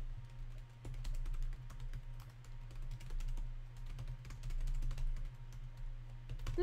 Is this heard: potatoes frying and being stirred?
no